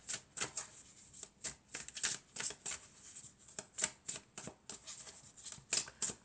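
Oracle cards are handled and shuffled close up, producing a quiet run of crisp, irregular flicks and riffles over several seconds, with no voices.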